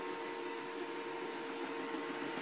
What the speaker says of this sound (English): there's a robot vacuum cleaner working in my household